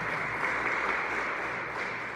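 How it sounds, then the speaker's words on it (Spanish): A church congregation applauds a returning parishioner during Mass, a steady, even wash of clapping from many hands that holds at a moderate level throughout with no voices over it. "un aplauso a Carmita"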